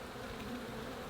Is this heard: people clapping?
no